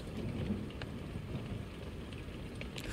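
Steady rain and rolling thunder in the Blair Witch video game, arriving at a run-down house: a dense, continuous wash of rainfall with low rumbles swelling under it, heard alone without talk.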